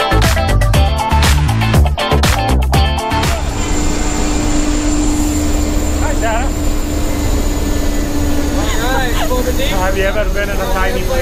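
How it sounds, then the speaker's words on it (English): Cabin of a small open-door propeller plane carrying tandem skydivers, a dense steady engine and wind roar throughout, with loud clattering knocks early on and people talking over the noise. "Have you ever been in a tiny plane like this before?"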